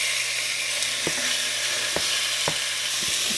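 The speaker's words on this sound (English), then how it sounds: "after it heats up, add 1 pound of chopped bacon" A pound of chopped bacon frying in a Dutch oven over a medium burner gives a loud, dense, even sizzle, punctuated by a few sharp utensil taps.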